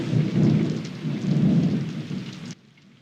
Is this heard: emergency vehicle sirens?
no